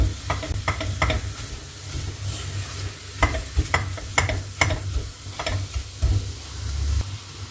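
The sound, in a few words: roasting flour in pan while stirring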